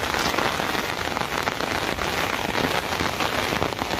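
Steady rain pours down outdoors, a dense, even hiss of drops hitting the ground that continues without pause.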